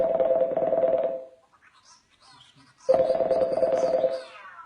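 Two long loud telephone tones during a live broadcast call, separated by a near-silent gap with faint garbled line noise, as the phone line freezes.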